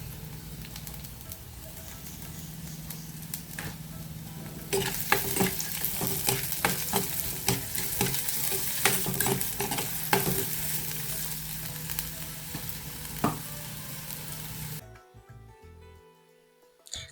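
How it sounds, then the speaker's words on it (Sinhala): Red onions frying in a pan for a Sri Lankan ambarella curry, with a steady close sizzle and repeated scraping stirs that grow louder after they go in, then stop abruptly near the end. "මම මේකට කලින් කපලා තියාගත්ත රතු ලුණු ටික දාගන්නවා."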